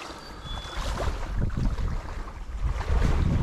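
A river rushes steadily in Katmai National Park, Alaska, a continuous broadband wash of flowing water mixed with gusty wind buffeting the microphone. There are no voices.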